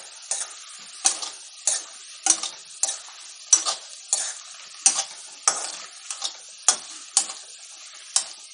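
Goat spleen (suvarotti) stirred and fried in a pan, with steady sizzling broken by regular, crisp spatula taps on the pan about every half second.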